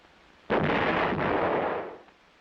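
A single loud, close blast from a US heavy artillery howitzer, a sudden boom that rumbles on for about a second and a half before fading.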